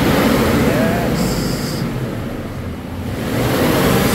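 A Toyota 4Runner's engine is revved on the gas, a loud, rough roar that eases off midway and then swells again, with voices faintly present in the background.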